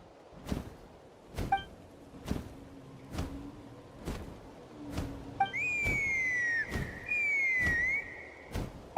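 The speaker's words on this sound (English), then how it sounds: "That sounded like a whistle." A whistle in a Plumaflora tribe mission of a video game: two long, sliding, piercing tones in the second half, over regular thudding footsteps and a few short chimes.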